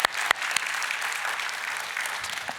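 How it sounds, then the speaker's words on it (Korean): A church prayer-meeting congregation applauds to welcome a missionary speaker: steady, moderately loud clapping from a crowd, with a few sharper claps at the start, continuing evenly throughout. "우리 박수로 한번 환영하겠습니다"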